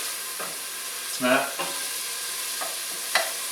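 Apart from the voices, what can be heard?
onion cooking and sizzling in a pot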